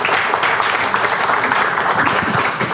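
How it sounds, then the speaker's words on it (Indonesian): A crowd applauds steadily, dense clapping filling the whole stretch at a constant, fairly loud level. "Tepuk tangan."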